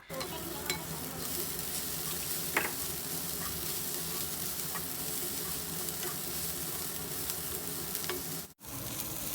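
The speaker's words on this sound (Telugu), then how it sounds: "మంచిగా దంచుకున్న ఒక 7-8 వెల్లుల్లి రెమ్మల్ని ఇలా వేసుకొని వీటిని కూడా మంచిగా ఫ్రై చేసుకుందాము" Onions and crushed garlic frying in hot oil in a pan, a steady close sizzle that runs unbroken throughout with only a brief dip near the end.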